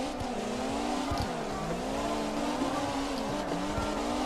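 Cars in CarX Drift Racing Online tandem drift, including a Specter RS S15 setup, with engines droning in sustained high revs and wavering pitch, tires squealing alongside, loud and close.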